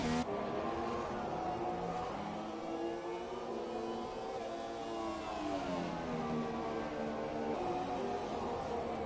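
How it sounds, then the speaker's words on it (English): A race car in a racing video game on the Chinese Grand Prix circuit, screaming high in the rev range with hard downshifts, a continuous loud engine drone with shifting pitch throughout. "hard downshifts, real high in the rev range"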